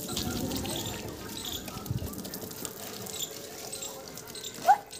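Water trickles and pours over a toy car being washed at a children's busy board, a faint dribbling stream beneath quiet voices.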